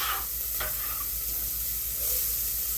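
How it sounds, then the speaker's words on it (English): Onions sauteing in a pan on lowered heat for a simple tomato sauce, a steady close sizzle and hiss with faint stirring scrapes and no talk. "we're going to continue sauteing these onions until they become soft and translucent"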